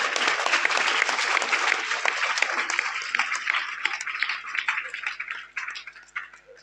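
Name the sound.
audience applause at school seminar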